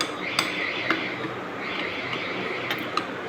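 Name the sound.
stirring food in a bowl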